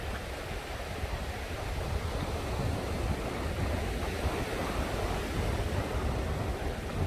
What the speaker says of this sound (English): so this is Khao Lak Beach, which is a very, very long beach